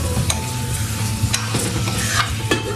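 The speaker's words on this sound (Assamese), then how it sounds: "এতিয়া মাংসখিনি 10 মিনিটমান পুৰা হাই ফ্লেমতে ভাজিম ঢাকন নলগাওঁ" Meat and unpeeled potatoes frying hard over a high flame in an open pan, with a steady loud sizzle and occasional stirring scrapes throughout.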